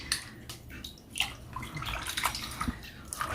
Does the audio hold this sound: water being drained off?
yes